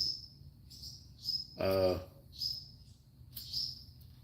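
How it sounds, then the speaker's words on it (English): Short high chirps repeat every second or so at a moderate distance, with a brief burst of a low voice partway through. "We got some birds over here, if you can hear them."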